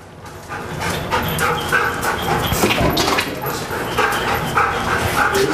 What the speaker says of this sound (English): what the dog is doing, he's just following the odor